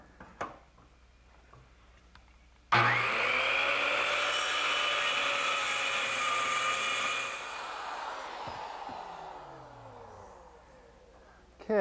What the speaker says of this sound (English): I'm just going to use my circular saw to trim it off